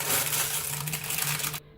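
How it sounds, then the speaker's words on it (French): Crumpled parchment paper crackles and crinkles as it is pressed into a cake dish, a steady close rustle lasting under two seconds before it stops abruptly. "Je mets un papier sulfurisé que j'ai chiffonné dans un plat à gâteau."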